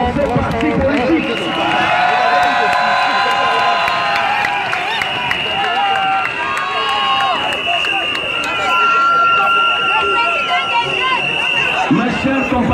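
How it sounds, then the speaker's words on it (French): A big crowd at a political rally in Douala, Cameroon, applauds and cheers in a loud sustained roar, with whistles, shouts and babbling voices layered over continuous clapping. "Bien vouloir applaudir encore pour ce parti politique."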